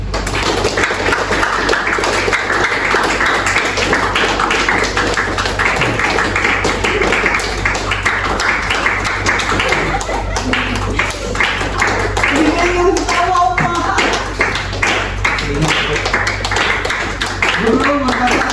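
A classroom of students claps their hands in scattered, busy bursts during an ice-breaking game, mixed with children's chatter and voices throughout the noisy room.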